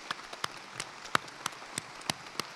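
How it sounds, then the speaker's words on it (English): Sparse, scattered clapping from a graduation ceremony audience, a few separate claps spaced irregularly across a quiet hall rather than a full ovation. "Big round of applause for Dr."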